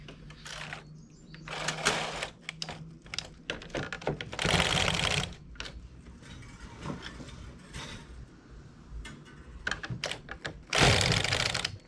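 A domestic knitting machine with its carriage pushed across to knit a row, heard as loud clattering mechanical bursts and rattles in uneven runs, close by with no talking.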